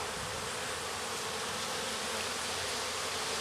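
A dense swarm of honey bees buzzes loudly and continuously around an open hive frame, a close, steady hum with no voices.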